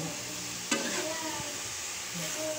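String beans, winged beans and okra sautéing in a pan, with a steady close sizzle and one sharp clink of stirring early on.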